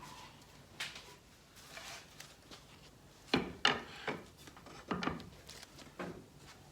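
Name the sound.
rubbing stain onto wooden sofa table stringers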